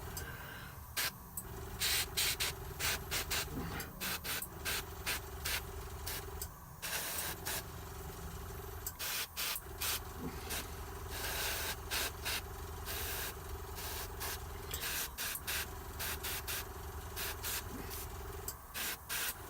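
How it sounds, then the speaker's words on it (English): Airbrush spraying paint onto a Blood Angel Librarian miniature in short, sharp bursts, each a soft hiss that starts and stops repeatedly over a constant compressor hum, fairly close. "Short, sharp bursts of the airbrush."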